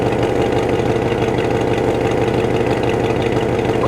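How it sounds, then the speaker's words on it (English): An International Harvester pickup truck engine idles at about 600 RPM in drive, a steady, loud, close-up rumble with an even low pulse and no other sounds. "Idle speed right now on this truck is set at 600 in drive."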